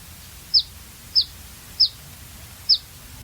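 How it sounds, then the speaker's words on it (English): Black phoebe at a rural park with grassy areas in East San Diego County, giving four short, sharp chip calls evenly spaced about half a second apart, clear over a low background rumble. "what we're hearing here is a black phoebe"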